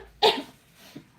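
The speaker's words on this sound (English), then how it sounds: "I'm still coughing a bit" A single short, sharp cough from one person, close and fairly loud, followed by a faint breathy sound and then quiet.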